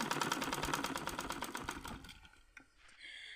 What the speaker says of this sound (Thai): ก็เย็บเรื่อยๆค่ะ